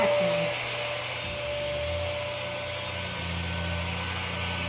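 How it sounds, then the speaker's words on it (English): Vacuum cleaner running steadily while deep cleaning a couch, a loud continuous motor whine and airy suction roar that holds almost unchanged throughout, close and without any voices. "I like the vacuum."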